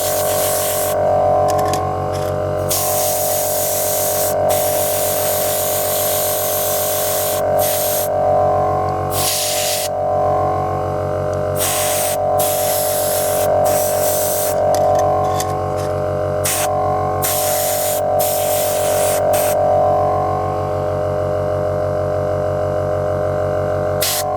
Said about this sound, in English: Due to the airbrush, you can control it quite well.